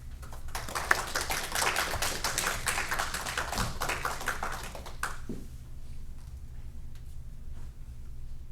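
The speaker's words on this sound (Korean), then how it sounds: "큰 박수로 맞이하겠습니다." A church congregation at a Korean Salvation Army Sunday service in Sacramento breaks into dense, lively applause that holds for several seconds, then quickly fades to quiet room tone.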